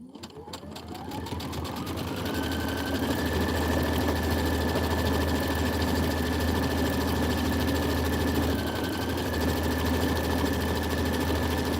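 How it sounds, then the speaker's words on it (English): A sewing machine stitches out a basket design, its motor spinning up and then holding a steady, loud, continuous whirring hum with a rapid mechanical chatter of the needle throughout. "It's going to stitch out the basket."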